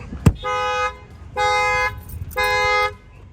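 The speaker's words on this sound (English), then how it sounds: "Go ahead and bang on the window and then set off the alarm." Infiniti Q50 factory alarm with an added shock sensor going off after a bang on the window: a sharp thump, then three loud, steady harmonic honking bursts about a second apart.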